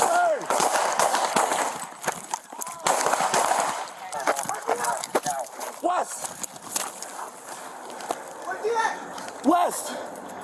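Gunfire exchanged between a police officer and a suspect, sharp bursts and cracks scattered through the scene, loud and close, mixed with voices and commotion.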